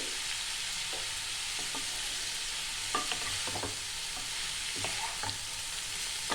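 Long strips of capsicum sizzle in a pan while being stir-fried for restaurant-style egg chowmein, a quiet steady frying hiss broken by scattered scraping stirs.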